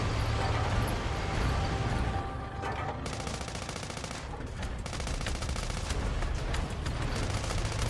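A tank fires in the video game Sand Land: sharp, rapid bursts of gunfire crack over a dense, continuous roar of game noise, loud and up close.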